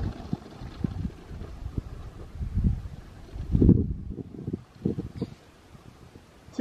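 Gusty wind buffets the microphone on a golf course in uneven low rumbles and thumps, rising and falling with a brief lull near the end.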